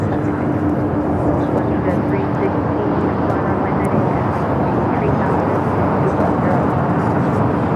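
A Gulfstream business jet taking off at Los Angeles International Airport, a loud, steady roar of jet engines that fills the whole stretch, with people talking over it.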